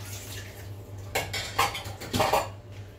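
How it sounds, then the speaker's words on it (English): Pot lid washed and rinsed at a kitchen sink, a few clinks and clatters with splashing water over a steady low hum. "Let's wash, rinse this lid off."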